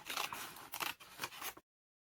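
Scissors cut paper for a junk journal card folio, with three or four crisp snipping strokes close to the microphone in a quiet room, then silence.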